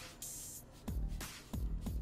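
Wheel cleaner spraying onto a dirty, brake-dust-covered car rim during lowrider detailing: a hissy spray burst near the start, followed by several sharp, close spritz-like bursts of the trigger sprayer in an uneven rhythm.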